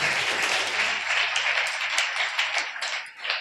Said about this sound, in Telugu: ప్రభువు చప్పట్లు కొడుతూ మేము పలుచుకున్నాం